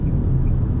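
A Nissan Sentra Exclusive 2025 with a naturally aspirated 2.0 engine in sport mode, floored uphill at around 100 km/h, gives a steady, loud, low engine rumble heard from inside the cabin.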